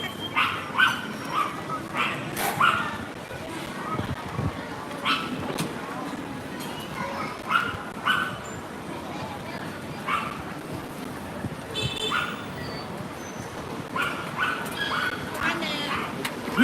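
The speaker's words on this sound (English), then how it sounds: "I hear a dog barking away up ahead" A dog up ahead on a Shenzhen street on a Sunday barks and yips repeatedly at a moderate distance, the bursts scattered over busy street ambience while people talk nearby.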